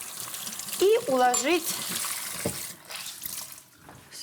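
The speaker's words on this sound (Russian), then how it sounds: "кладем вот сюда в миску какое-нибудь полотенце, смочить горячей водой" Hot water splashes and trickles onto a towel in a bowl in a home kitchen, a close, steady wet hiss while someone speaks briefly over it.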